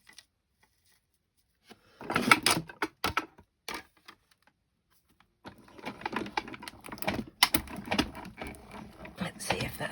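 A manual die-cutting machine feeds a card through with an adhesive-backed burlap piece, giving faint irregular clicking and rattling in short bursts, quiet and close with gaps between.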